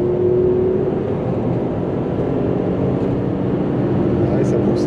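A Fiat Coupé with a 5-cylinder 20-valve turbo engine gives a loud, steady drone of engine and road roar throughout, heard from close by as the car pulls.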